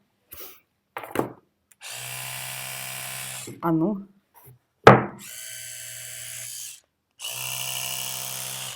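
An Oral-B electric toothbrush by Braun buzzes steadily in three separate bursts, with short pauses, a few clicks and a brief spoken word between them.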